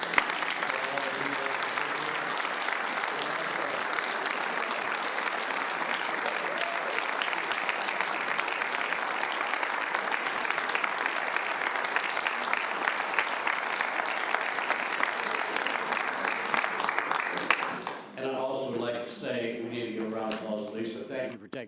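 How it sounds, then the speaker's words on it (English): A Deltona city commission meeting audience applauds after a swearing-in, a dense, loud wash of clapping that carries on steadily and then gives way to a speaker talking near the end. "Let's give a round of applause to her."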